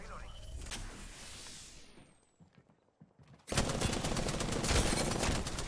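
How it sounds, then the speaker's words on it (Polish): Bursts of loud gunfire in the video game Apex Legends crackle at the start, fade into a brief quiet gap, then erupt again as a dense, sustained volley. "Poleciały strzały od niego."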